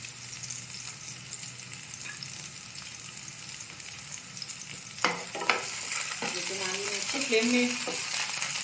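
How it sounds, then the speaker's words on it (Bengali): Sabudana khichdi sizzles gently in a pan over a low flame while a utensil stirs it, with soft frying hiss underneath and a series of scraping, clinking stirs in the second half. "আর এটা যতক্ষণ গোল্ডেন ব্রাউন হচ্ছে ততক্ষণ আমি এটাকে নাড়তে থাকবো।"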